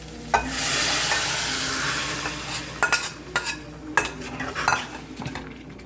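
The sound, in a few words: cooked toor and moong dal poured into pan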